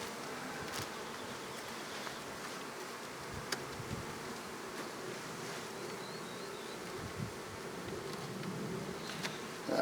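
Honeybees buzzing steadily during a hive inspection, a dense continuous drone close by with occasional faint knocks and handling sounds.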